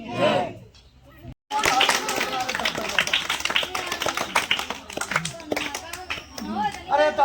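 Spectators at a village magic show clap in sharp, uneven bursts of hand claps close by, mixed with people talking and shouting, after a brief quiet gap near the start.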